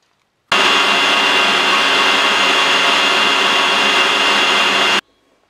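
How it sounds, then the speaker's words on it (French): An electric mixer whips cold cream in a chilled bowl, a loud, steady whirring drone that starts abruptly, holds for about four and a half seconds, then cuts off, with no talking over it. "on la met dans le bol d'un batteur bien froid. Et puis, on la fouette juste à temps qu'elle monte"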